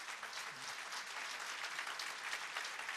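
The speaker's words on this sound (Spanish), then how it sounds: "yo les invito a que demos otro fuerte y caluroso aplauso a" Steady, dense applause from an audience at a theological debate, welcoming guests; even, sustained clapping throughout with no break.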